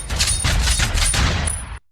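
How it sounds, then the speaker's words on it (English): A burst of rapid gunfire, several sharp shots in quick succession, loud and close, cutting off abruptly. "if I want to add a noise, I can go gunshot"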